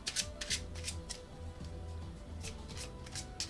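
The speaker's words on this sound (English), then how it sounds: "hopefully you can see that the deck actually is being shuffled" A deck of playing cards is shuffled close up, with repeated crisp riffling bursts and soft flutters that come in quick rhythmic clusters, set over a low steady hum.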